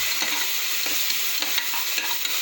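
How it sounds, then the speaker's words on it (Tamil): Ginger garlic paste sautéing for a home-style chicken curry, a steady close sizzle and frying hiss with light stirring scrapes scattered through, no voices. "இஞ்சி பூண்டு பேஸ்ட் போட்டு வதக்குறாங்க"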